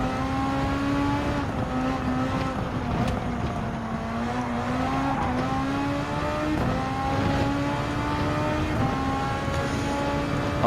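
An SF23 Super Formula single-seater in Gran Turismo 7 at Autopolis International Racing Course, its high-pitched engine note climbing and dropping through repeated upshifts, steady and loud with no talk.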